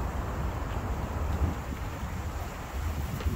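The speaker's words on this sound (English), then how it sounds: "It's really, really windy out." Cold wind buffets the microphone outdoors on a Sunday morning in Dumbo, Brooklyn, near the Manhattan Bridge, a loud continuous rumbling roar with no letup and no voices.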